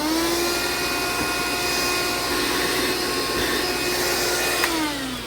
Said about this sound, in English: Hold on, there's a bug here, and I'm going to vacuum this bug.